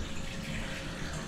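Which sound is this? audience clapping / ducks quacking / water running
water running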